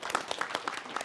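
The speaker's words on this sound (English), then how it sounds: "So give them a big round of applause." Brief burst of applause from a webinar audience honouring a trauma-healing foundation team, scattered claps close together over about a second, fairly quiet.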